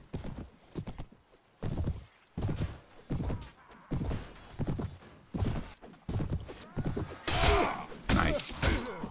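Cavalry horses from Mount & Blade thud in uneven clip-clopping bursts of hooves, close and moderately loud. A few whinnies and clatter mix in, and someone talks over them.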